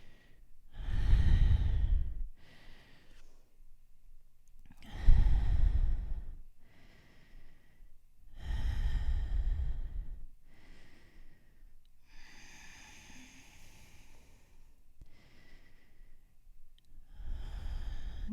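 Slow, deep breaths during a yoga session, with about six long, close inhales and exhales separated by quiet pauses and some sigh-like releases.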